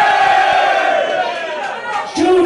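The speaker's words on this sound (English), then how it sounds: "big cheer for Judy!" Stadium crowd cheering for a fan named Judy at a Sunderland pre-match show, a loud sustained roar with chanting voices that dips slightly midway and swells again near the end.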